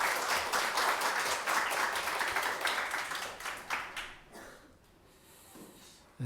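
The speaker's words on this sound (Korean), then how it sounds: "우리 하나님께 감사와 영광의 박수 올려드리겠습니다." Congregation applause during a Korean Sunday church worship service, a broad, steady wash of many hands clapping together that fades out into near quiet, heard from a slight distance in a large room.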